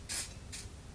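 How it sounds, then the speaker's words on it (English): Two short hissing bursts of a shaken makeup setting spray, close and crisp, the first longer and the second briefer, in an otherwise quiet room. "I'm just gonna shake it up very well and spray."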